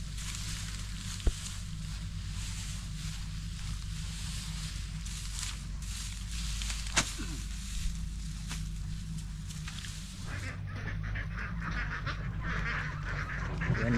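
Ducks (itik) quacking and honking as a group during a rice harvest, a steady flock chorus close by with low rumbling background noise, fairly loud throughout.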